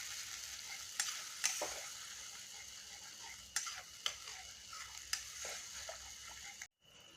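Fish stir-fried with ground poppy seed paste in a pan, a soft steady sizzle with sharp spatula scrapes and clicks at irregular intervals, close and quiet.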